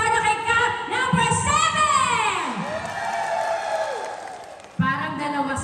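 A studio audience claps and cheers for Cab number 7 at a Filipino television show, with excited shouting and whoops rising and falling under a host's amplified talk, then a fresh burst of noise near the end.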